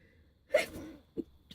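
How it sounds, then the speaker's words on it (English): A single close sneeze bursts out sharply, followed by a brief catch of breath a moment later, in an otherwise quiet room. "I'm now sneezing on screen"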